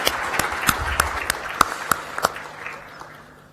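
Audience applause in a conference hall after a minister's remarks at a Manama security dialogue session, several sharp distinct claps over a steady wash of clapping that gradually fades out; no talking.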